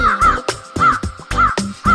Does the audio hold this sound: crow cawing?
yes